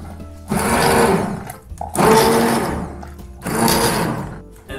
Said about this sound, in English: So now I'm going to use this immersion blender and just blend this.